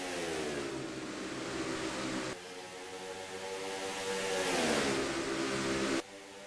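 Race truck engines drone in a sim racing truck series event, a steady, loud mechanical whine rising and falling in pitch as the trucks accelerate and shift, with a brief dip near the end.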